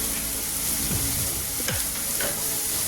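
Chicken masala and Kashmiri chili powder frying in a pan, a dense continuous sizzle with a couple of quick spatula scrapes in the middle, loud and close with no speech.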